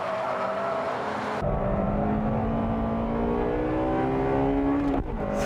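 A Honda Integra R race car with a 1.8-litre engine accelerates hard on a wet track, its engine note climbing steadily in pitch through the gears, loud and close, with a brief dip near the end.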